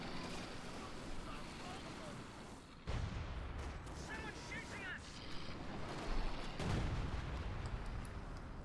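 Artillery shells strike in the Company of Heroes 2 strategy game, two deep booming impacts landing amid a constant rumbling battlefield wash, with a commentator's voice talking over the game sounds.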